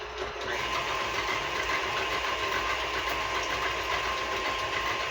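A KitchenAid stand mixer, bright red and about 24 years old, runs in a home kitchen, giving a steady, even motor whir that holds without pause.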